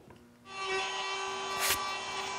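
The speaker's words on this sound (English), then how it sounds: "I'm going to use this little chisel just to square up my corners" A small hand chisel works the corners of a handmade wooden box, giving a steady scraping rub that starts after a quiet moment and carries on close up, with one brief sharper scrape partway through.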